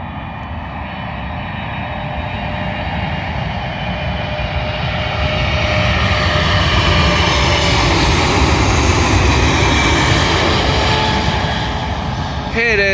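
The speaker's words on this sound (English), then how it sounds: "Arriving in now is a British Airways Boeing 777 from New York to London Heathrow." A British Airways Boeing 777 arrives at London Heathrow on runway 27L, its jet engines roaring loud and steady and swelling as it passes close.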